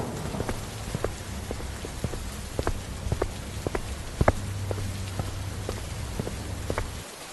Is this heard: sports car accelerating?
no